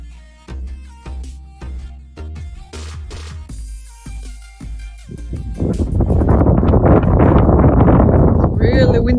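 Strong wind at Hoover Dam roars as loud broadband buffeting over the microphone through the second half, after earlier sharp plucked tones, with voices talking.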